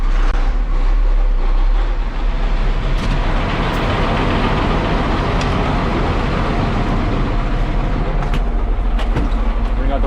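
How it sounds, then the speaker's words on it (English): An MX120 mixer tractor with about 13,400 hours runs after starting on a farm, giving a loud, steady, rumbling engine drone that continues unbroken and without talk. "Get the good old mixer tractor started here."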